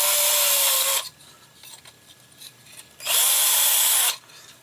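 A power drill whines loudly for about a second as its bit passes through a plastic part, pauses, then runs again for another second, close up.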